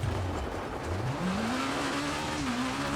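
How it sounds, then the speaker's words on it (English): A Peugeot 306 Maxi rally car in WRC 24 on a stage in Italy, its engine note dipping then rising steadily as it pulls out of a handbrake turn, loud and close. "A little bit of a handbrake turn there once again."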